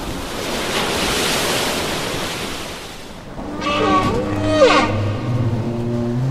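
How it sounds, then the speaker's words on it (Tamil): Open sea waves wash in a continuous broad rush with wind, then fade to a softer swell under music that enters partway through. "கண்ணுக்கு எட்டியவரை எங்கும் கடல்"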